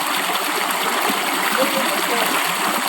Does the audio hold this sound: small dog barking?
no